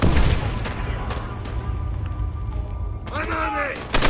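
Grenade explosions and gunfire in the war shooter Call of Duty: World at War come as dense booms and cracks under shouted voices. A rising whine or whistle is heard near the end.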